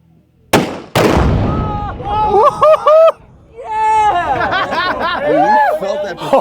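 Forty pounds of Tannerite detonating outdoors: one huge sharp boom and a second heavy blast with a rolling rumble, followed by excited voices exclaiming over the lingering echo.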